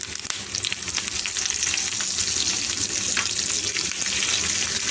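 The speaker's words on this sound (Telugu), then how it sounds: "ఇప్పుడు కరివేపాకు వేస్తున్నాను." Curry leaves sizzling in hot oil, a dense crackling spatter that holds steady and close for several seconds with scattered sharp pops.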